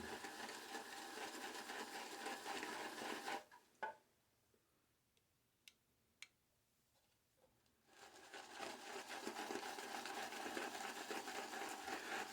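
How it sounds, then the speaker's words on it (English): Shaving soap is whipped into lather in a bowl with a brush, a continuous close scratchy swishing that stops for a few seconds with a couple of light taps and then resumes. "So let's start working that lather up."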